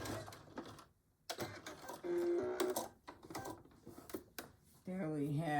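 A sewing machine back stitching fabric for a Betty Boop pillow cover, bursts of mechanical whirring and needle chatter stopping and starting, close and fairly loud, with a person talking over it.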